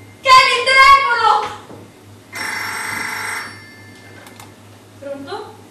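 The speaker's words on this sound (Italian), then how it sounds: "Kenny, il telefono!" A telephone rings in bursts during a stage play, between stretches of a woman's agitated speech, with a brief voice following the ring, all heard through a theatre recording.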